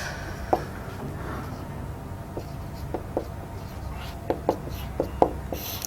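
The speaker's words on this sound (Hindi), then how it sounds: "जो हमारे पास मुश्किल अल्फाज हैं वो मैं यहां लिख रहा हूं" Marker or chalk writing on a classroom board during an Urdu lesson, faint scattered taps and short strokes over steady room noise, with no talk.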